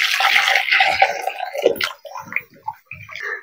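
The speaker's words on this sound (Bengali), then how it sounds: "তো আমি চিনির রসটা একটা বাটিতে ঢেলে প্লেট দিয়ে ঢেকে রেখে দিয়েছি।" Sugar syrup being poured from a pan into a bowl while making palm-fruit pitha in a home kitchen, a steady liquid pour that gurgles and trickles before breaking into a few scattered drips.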